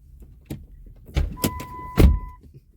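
Inside a car, a power window motor whirs with a steady hum for about a second, framed by soft thumps and interior handling noises close to the microphone.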